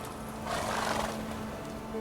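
Roach, Geralt's horse in the video game The Witcher 3, lets out a single drawn-out neigh over a low steady background hum, close and fairly loud.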